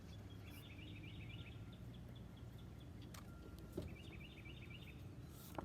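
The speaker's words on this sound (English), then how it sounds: "The birds are singing." Repeated chirping bird song outdoors, faint and somewhat distant over a steady low background hum, with no talking.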